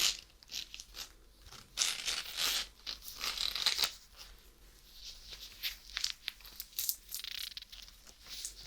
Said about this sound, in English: And when we open it and zip it up